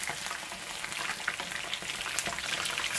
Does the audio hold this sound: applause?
no